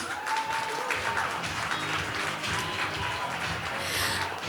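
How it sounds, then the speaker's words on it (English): Clapping from the audience at an anniversary celebration event, a moderate and fairly distant round of applause that continues steadily for several seconds. "Another round of applause, please."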